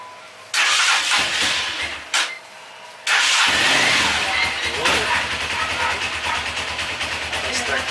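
A motorcycle engine is started and catches, a sudden rough burst followed by a steady running rumble that continues close by, with a brief pause between two attempts.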